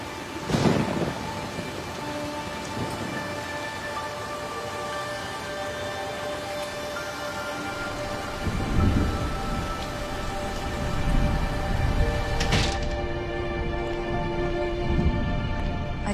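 Steady rain falling with a dense hiss, rumbles of thunder rolling in the background at a few points, no voices.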